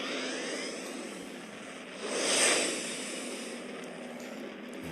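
Spaceship warp engine starting up in the video game Second Galaxy, a steady roaring whoosh that swells to a louder surge midway then settles back, continuous and alone.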